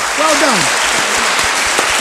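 Applause breaks out for the winner of a school debate, a sustained wash of clapping from an audience that fills the short stretch, with a voice speaking briefly over it at the start.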